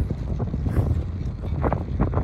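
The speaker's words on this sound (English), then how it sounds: "It's windy, isn't it?" Strong wind buffets the microphone in a steady low roar with gusty surges, no other sounds standing out, aboard a wooden boat in Lund.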